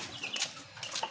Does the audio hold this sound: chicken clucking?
yes